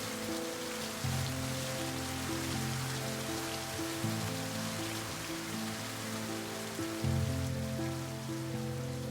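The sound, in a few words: rain and wind during storm at chateau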